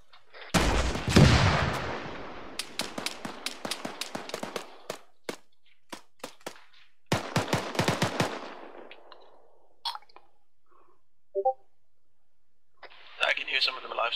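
Shilka anti-aircraft gun fires in the Arma 3 video game, with loud rapid bursts of automatic fire in several strings and scattered distant shots, heard alongside voices talking over a radio.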